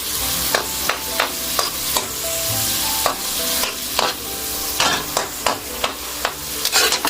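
Snails sautéing with lemongrass in a pan, a steady bright sizzle with repeated scraping stir strokes at an irregular rhythm, close and fairly loud with no talking.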